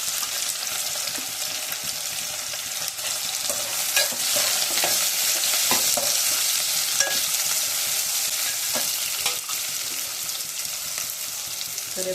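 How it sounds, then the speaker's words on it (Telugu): Chopped onions fry with cumin seeds in a pan for egg curry, a loud continuous sizzle broken by scattered scraping stirs and small pops. "జీలకర్ర వేసాం కదా, ఆ జీలకర్ర కూడా మిక్స్ చేసేసుకున్నాము. ఇవన్నీ వేగేసాయి. కట్ చేసి పెట్టుకున్న ఆనియన్స్ వేసుకున్నాను."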